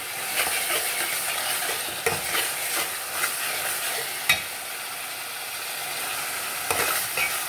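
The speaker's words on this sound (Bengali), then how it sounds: "এতে আমার মশলাটা ভুলা হচ্ছে" Spices sizzling and crackling in hot oil in a home kitchen pan for shrimp and potato curry in tomato sauce, with steady frying hiss, occasional stirring clinks and scrapes, close and continuous, no talking.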